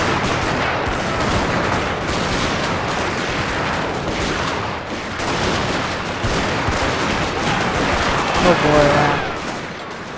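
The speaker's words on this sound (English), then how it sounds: "My Marines are getting fired at." Dense battlefield gunfire crackles continuously in Shogun 2: Fall of the Samurai as marines come under attack, volleys rolling on throughout a large land battle, with a voice exclaiming over the din.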